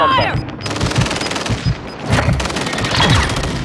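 Video game gunfire from Call of Duty: Modern Warfare II multiplayer, with loud, close bursts of automatic shots mixed with repeated single cracks and a chaotic battlefield din, with a faint voice briefly underneath.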